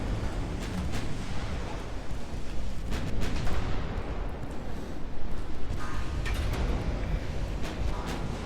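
Battleship 17-inch guns fire in the naval video game Ultimate Admiral Dreadnoughts, with heavy booming blasts and rumbling over a constant roaring battle background, several impacts spread through the sequence.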